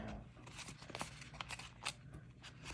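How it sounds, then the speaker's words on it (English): Paper is crumpled and torn by hand while making a junk-journal envelope: soft, close crinkling and rustling with a few sharper crackles, quiet and continuous. "I'm just going to kind of crumple, maybe tear a little bit."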